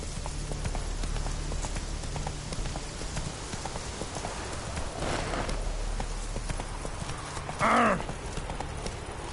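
Roach, a horse in The Witcher 3, gallops with steady, rapid hoofbeats over a constant ambient background, and a short whinny rises near the end.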